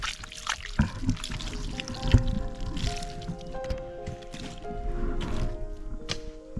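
Water pours and trickles into a soft-soil planting pit for a jackfruit sapling, in uneven splashes, with scattered rustles and thumps and a low background hum.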